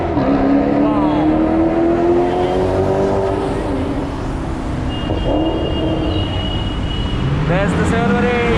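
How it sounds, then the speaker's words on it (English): A Maserati supercar on a Republic Day drive with a Pune supercar group sweeps past at speed, its loud engine note rising then fading over steady road roar, with voices talking over it. "Now here comes the Maserati."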